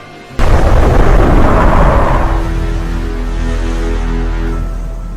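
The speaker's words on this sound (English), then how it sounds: "how the heck did that grenade cause a big explosion?" A grenade explosion in a film, a sudden heavy boom after a brief quiet that rolls into a long, loud, rumbling decay with a deep low-end tail.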